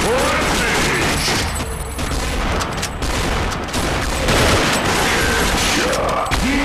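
Dense, continuous video game firefight gunfire, loud and unbroken, with rapid overlapping shots and booms packed together throughout.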